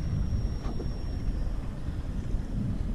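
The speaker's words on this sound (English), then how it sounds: "Wind's blowing up a fair bit at the moment" Strong wind of about 30 km/h gusts over choppy water with whitecaps around a small fishing boat, a heavy low rumble of wind buffeting the microphone that rises and falls continuously, with no talking.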